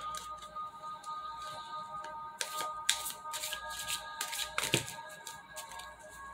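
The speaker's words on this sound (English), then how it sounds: "Now I was going to pull out some of my karma cards and just see what we get." Karma cards being shuffled by hand, with a run of crisp riffling and snapping card clicks, bursts of slaps around the middle and end, close and fairly quiet, with no talking.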